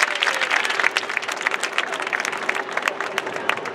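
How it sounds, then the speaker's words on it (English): An outdoor audience at a ribbon cutting for a compost site applauds in a loud, dense burst of clapping that lasts throughout. "can we also give a round of applause for Benny and the Lawn and Leaf Bag?"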